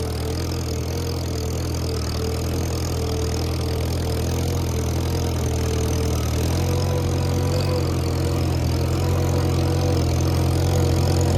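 Farmall 140 tractor engine running steadily, a constant low engine drone with a slight rise in level toward the end, close by with no talking, ahead of chisel plowing work.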